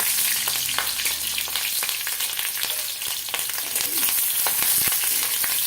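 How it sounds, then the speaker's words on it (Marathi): Green chilies frying in about two spoons of hot oil, a dense crackling sizzle that holds steady, with scattered pops and light stirring clatter. "आपण आता मिरच्या तळून घेणार आहोत त्याच्यात"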